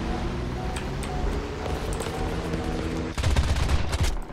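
Aircraft guns firing at an HE-111 bomber in the air battle game War Thunder: a steady rattle of gunfire over engine drone, swelling into a louder, denser burst near the end.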